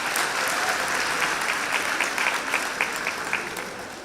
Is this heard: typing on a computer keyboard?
no